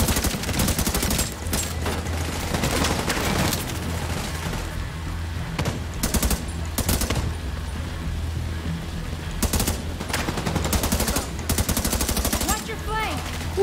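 Bursts of rapid automatic gunfire and single shots crack repeatedly in the video game Tom Clancy's The Division 2, loud and dense throughout, with brief pauses between volleys and a voice talking at times.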